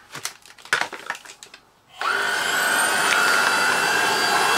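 A Beko VRT6221P cordless vacuum cleaner starts up after a few scattered clicks and handling knocks, then runs with a steady, loud motor whine and airflow hiss to the end.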